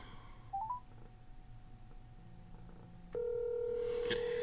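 Keypad tones beep as a call is dialed on a Xiaomi Mix Flip 2, a few short chirps followed by a steady, loud ringback tone that holds to the end.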